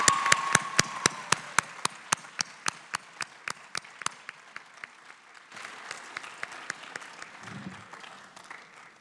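A school theater-night audience applauds, the sparse individual claps at first growing into a dense, rhythmic clapping crowd that carries on for several seconds. A brief low murmur is heard near the end.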